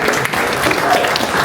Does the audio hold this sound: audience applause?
yes